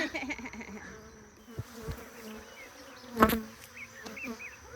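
Honey bees buzz around an open hive during a honey harvest, a faint continuous hum with occasional louder passes close by and a sharp nearby noise midway.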